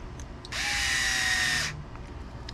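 Power driver running screws down into an RC differential casing on a Kyosho MP10 kit build: a single steady whirring burst of about a second, close and fairly loud, with no talk.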